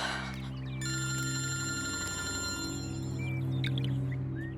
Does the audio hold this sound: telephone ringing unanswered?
yes